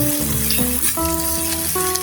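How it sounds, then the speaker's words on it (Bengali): Sliced bitter gourd sizzles steadily in a hot pan while being turned over, with a continuous close frying hiss and clear tonal ringing from the pan. "আমি একটু নেড়ে চেড়ে দিচ্ছি ভালো করে, এপিট উপিট করে, কিন্তু ধীরে ধীরে এই কয়লাটি ভেজে নিতে হবে।"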